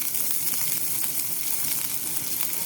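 Crushed ginger dropped into garlic frying in oil, a steady, dense sizzle that stays even and moderately loud throughout with no talking.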